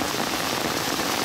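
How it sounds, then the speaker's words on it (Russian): Tropical downpour in a Vietnamese-style fern jungle, a dense steady hiss of heavy rain drumming on surfaces, constant throughout the brief moment. "тропические ливни"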